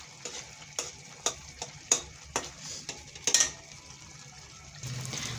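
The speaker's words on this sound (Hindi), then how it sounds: "ऐसे करके घुमाते जाएंगे और हमारा जो हलवा है वो रेडी होता जाएगा" Halwa is stirred in a pan with a spoon, giving a soft run of scrapes and light knocks against the metal over a faint sizzle, with no talking.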